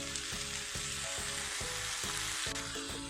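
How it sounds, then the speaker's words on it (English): Chopped tomatoes added to a frying egg curry mixture with coconut milk, producing a loud, continuous close sizzle with rhythmic stirring scrapes, no speech. "Now let's add the chopped tomatoes into this."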